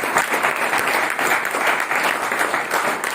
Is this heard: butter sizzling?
no